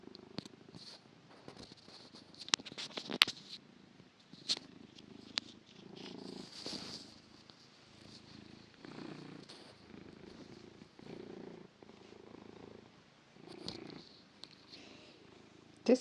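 A cat purrs close up in a steady, continuous low rumble with rhythmic breaths throughout, while a few soft rustles and handling noises come and go.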